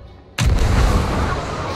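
A ship's cannon fires once in the Sea of Thieves pirate game, a loud, sudden boom that erupts at once and rolls on with a long, heavy rumble and no talk over it.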